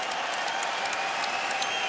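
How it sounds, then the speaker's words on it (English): A crowd at a Bellator MMA event gives steady applause, a dense wash of clapping that holds level from start to finish, with no voices standing out. "So everybody, please, a round of applause to him."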